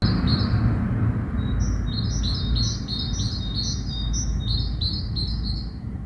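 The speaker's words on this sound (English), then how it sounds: "Few minutes ago, sound was filled with songbirds." Songbirds sing outdoors in quick, repeated high chirps and trills, clear and fairly near, over a low rumble of background noise.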